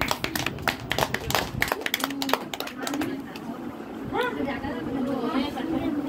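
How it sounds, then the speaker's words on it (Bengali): Guests at a wedding garland-exchange ceremony clap their hands in a quick burst of scattered, close applause during the first seconds, which then gives way to chatter and lively talk from the crowd. "না হাততালি হাততালি হাততালি হাততালি"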